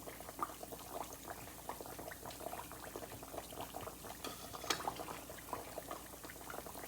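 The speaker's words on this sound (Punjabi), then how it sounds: "ਇਹਨਾਂ ਨੂੰ ਇਸ ਇਸ ਤਰ੍ਹਾਂ ਹੀ ਆਪਾਂ ਮੀਡੀਅਮ ਲੋ ਤੇ ਹੀ ਫਰਾਈ ਕਰਨਾ ਹੈਗਾ ਆ" Biscuits made of semolina and wheat flour fry on medium-low heat in a pan, giving a faint, steady bubbling sizzle with small scattered pops and crackles and no talking.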